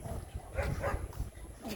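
Dogs bark a few times at moderate distance, the yaps overlapping with murmured voices and background noise.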